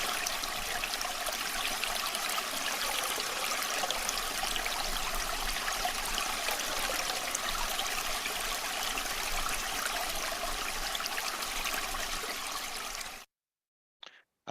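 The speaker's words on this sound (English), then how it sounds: "sound therapy for tinnitus, water, and a river" Steady, broadband rush of flowing river water used for tinnitus sound therapy, continuous and even for about thirteen seconds before cutting abruptly to near silence with a faint brief sound at the end.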